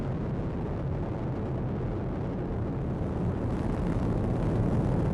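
An Atlas V rocket's RD-180 engine thundering during launch as it throttles down, a steady, broadband distant roar that holds throughout with no voices.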